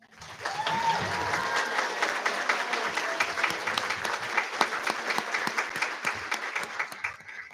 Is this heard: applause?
yes